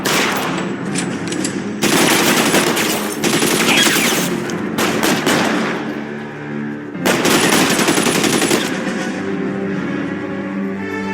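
Video game gunfire in L.A. Noire, bursts of rapid automatic shots and gunfire volleys in long loud stretches separated by brief lulls, with no speech.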